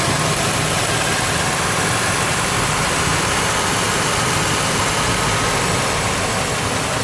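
A 2006 Chevrolet Monte Carlo engine idles with the hood open, a loud, steady, even rumble heard up close and continuously, with no voices over it.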